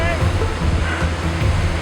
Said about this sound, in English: the beach opens for a few seconds and then these waves just knock it out